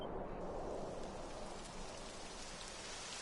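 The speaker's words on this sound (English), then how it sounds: "It would have to go and start raining" Steady rain falls in the video game Dragon Quest XI, making a continuous, even hiss of drops on surfaces that stays quiet and level, with no voices.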